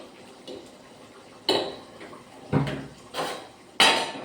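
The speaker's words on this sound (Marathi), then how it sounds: "आता छान असं प्लेटमध्ये वरण घेऊन मुगाची डाळ" Yellow moong dal is served onto a plate beside hot rice. A handful of distinct clinks and scrapes of a utensil against the dish come at irregular intervals, close by, with quiet gaps between them.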